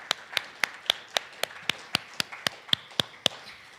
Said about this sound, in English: So I would like to begin by giving them a round of applause.